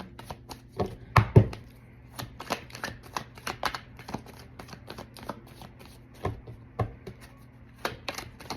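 Cards riffle and snap in quick, irregular bursts, with soft shuffling and tapping between, close by and fairly quiet, no talking.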